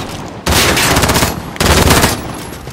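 Two long bursts of rapid automatic gunfire from the video game Call of Duty: Modern Warfare, loud and close, with a short pause between them.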